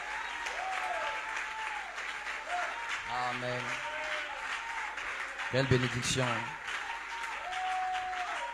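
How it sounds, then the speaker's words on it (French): A church congregation claps and cheers in a sustained burst of applause, loud and steady throughout, with a speaker's amplified voice calling out over it and a swell of cheering near the end. "Des mains d'acclamation."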